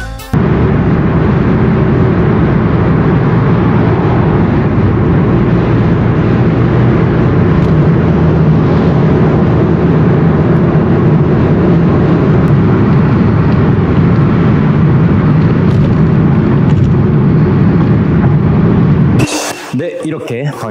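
Wind noise inside a Kia K5 while driving, a steady loud low-frequency rush and rumble filling the cabin throughout, ending abruptly near the close as a different sound takes over.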